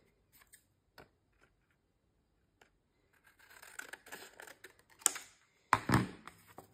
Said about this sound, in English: cut it on the same diagonal by lining it up.